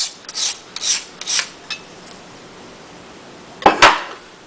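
A knife blade stroked back and forth across a sharpening stone, four raspy, hissing passes in steady rhythm near the start, a pause, then a brief louder scrape; close and clear with no talk.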